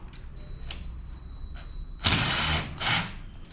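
Cheap screws being backed out of an LED retrofit light fixture, heard as a couple of short, loud scraping grinds of a driver against the stripping screw heads after a quiet stretch.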